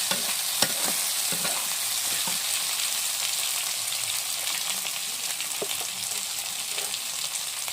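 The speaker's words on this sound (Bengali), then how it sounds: "একটু করে নেড়ে চেড়ে নেব" Tomato, capsicum and other chopped vegetables sizzle steadily in a hot pan while a spatula stirs them, with scattered scraping clicks over a continuous frying hiss and no talk.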